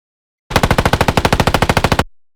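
Designed automatic gunfire for the video game Apex Legends, built from BOOM Library assets: a loud, close burst of about twenty rapid, evenly spaced shots over a second and a half, followed by a short decaying tail.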